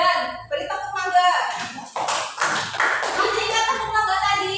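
A school class performs the 'tepuk mangga' clapping routine in a steady patterned rhythm of close, crisp handclaps, with voices chanting and speaking along.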